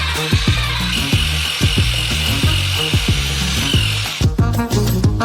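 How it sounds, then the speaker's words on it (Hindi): A construction mixer whirs through a big batch of sugar and water in buckets, a steady power-tool whine under rhythmic music that cuts off near the end. "एक कंस्ट्रक्शन मिक्सर से हम मिश्रण करेंगे"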